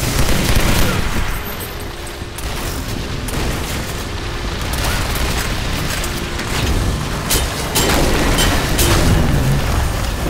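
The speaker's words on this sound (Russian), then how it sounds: "стали сильно взрываться" Loud, dense battle din from a video game, with booming explosions and bursts of rapid gunfire rolling continuously through the whole stretch, heavy low rumble throughout.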